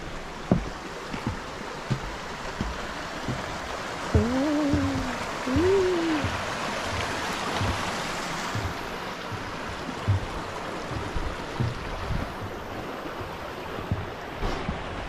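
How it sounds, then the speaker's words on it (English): Water rushes and splashes steadily nearby, with sloshing bursts as someone wades through a flowing stream crossing on the Appalachian Trail; a couple of brief voiced sounds rise midway. "It's my first water crossing."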